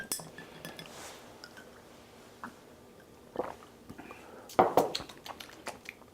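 Glasses of bourbon on the rocks clink together in a toast, a few brief bright chinks near the end over a quiet room with faint voices.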